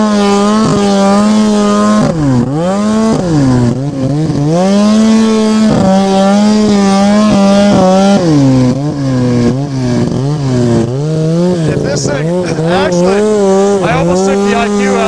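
Snowmobile engine while riding, droning loud and close throughout with repeated rising and falling revs as the throttle changes.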